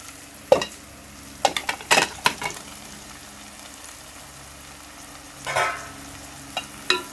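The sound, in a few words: chicken liver frying with ginger garlic paste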